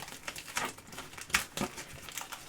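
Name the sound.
tearing open the packing list pouch on a Dell XPS 8930 box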